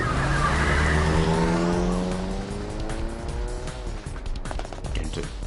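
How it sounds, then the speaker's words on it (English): A taxi engine in the video game 428: Shibuya Scramble revs hard and rises in pitch as the car lurches off, with a brief tire squeal. It is loud and close, then settles into a steady drive. "The taxi lurched into motion, the engine quickly revving up to speed."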